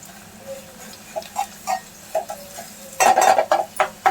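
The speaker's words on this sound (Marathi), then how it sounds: "आता मस्तपैकी कांदा फ्राय झाला आपला. थोडंसं आलं लसूण घाला." Spoon scraping and clinking in a pan as ginger and garlic are stirred into frying onions, soft at first, then a louder burst of quick scrapes and taps near the end, close and without talk.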